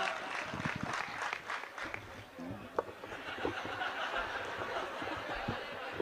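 A live audience at a Hindi comic poetry recital claps for the poet Rohit Jhannat, a fairly soft spell of clapping mixed with scattered chuckles and murmurs from the crowd.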